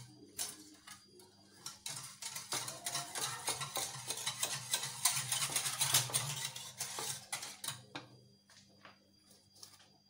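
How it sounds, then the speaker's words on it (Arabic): Milk and cream are whisked with a metal whisk in quick, rhythmic clinking strokes against the bowl, building to a steady busy patter in the middle and then slowing and fading. "غادي نخلطو بالفوي مزيان باش ما يبقاش مكتل"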